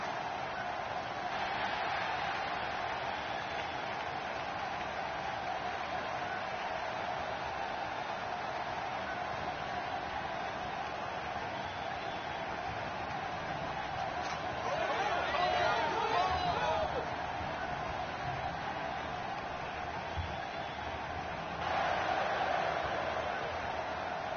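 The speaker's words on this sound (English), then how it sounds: "Will you listen to the buzz in the crowd?" A large indoor wrestling arena crowd in a video game buzzes with a steady, distant murmur of chatter, swelling briefly louder a couple of times.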